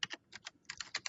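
Quick, crisp keystrokes on a computer keyboard, about a dozen clicks in an uneven rhythm, close up and alone.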